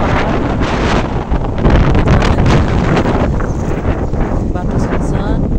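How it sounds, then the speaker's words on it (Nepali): Strong wind buffets the microphone on a mountain road to Muktinath in Mustang, a loud, continuous roaring gust with rustling bursts throughout, while someone talks faintly underneath. "हावा लाग्ने ठाउँ रहेछ।"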